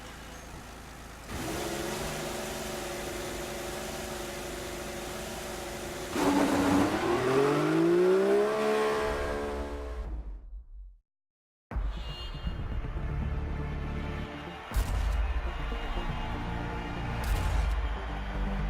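A Williams F1 car driven by Valtteri Bottas in the F1 2014 video game at the Chinese Grand Prix, a loud close high-pitched engine drone that rises sharply through the revs, cuts out briefly, then resumes steady with gear-change bursts.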